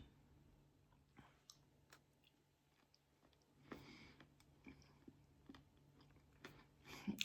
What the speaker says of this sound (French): Ça croustille à l'intérieur comme s'il y avait des petites billes.